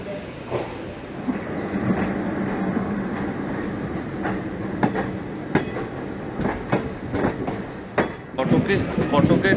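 A train pulling out of Khurda Road Junction station in the early morning, with a heavy continuous rumble, rhythmic clickety-clack of wagons over rail joints and occasional sharp knocks and wheel squeals, fairly loud and close.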